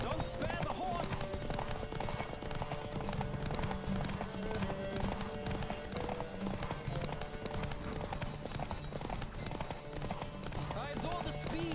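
A horse gallops in The Witcher 3, with steady rapid hoofbeats running throughout alongside game music and ambience, and talk heard along the way.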